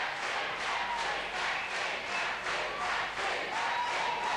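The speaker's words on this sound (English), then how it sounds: "which cheering is coming from where Maxine McHugh is and which is coming from the tally room" A large election night crowd at the 2007 Australian election roars and cheers in steady, pulsing waves, loud and continuous throughout with no clear voices standing out.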